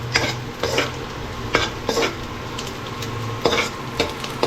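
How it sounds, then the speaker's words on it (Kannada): Four broken dried red chillies fry in a sambar tempering on an induction stove, with a soft sizzle under repeated scraping and clinking strokes of a spoon against the pan. "ಕೆಂಪು ಮೆಣಸಿನ್ಕಾಯಿ 4 ಮುರಿದಿಟ್ಟಿದ್ದೀನಿ, ಅದನ್ನು ಇವಾಗ ಹಾಕಿದ್ರ ಜೊತೆ ಒಗ್ಗರಣೆಯಲ್ಲಿ ಫ್ರೈ ಮಾಡಬೇಕು."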